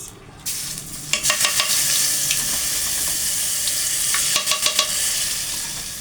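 Salt hits hot oil in a pot while Egyptian lentil soup is being made, giving a steady hiss with a few bursts of crackling sizzle and light clatter, close and moderately loud.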